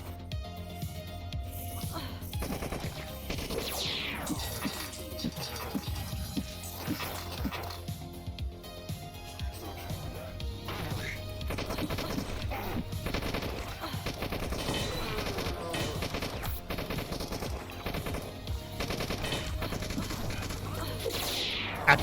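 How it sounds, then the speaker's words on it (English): Shotgun blasts ring out in the cyberpunk melee-focused shooter Beyond Sunset, repeated bursts of gunfire amid crashes and game effects over a steady low hum, with occasional speech. "now that we have the shotgun, we actually have an answer for these big robot jackasses"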